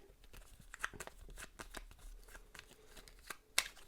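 Playing cards for a tabletop game being shuffled by hand during a play session, a run of soft riffling and crisp snapping bursts with a sharper flick near the end, close and quiet, with no talk.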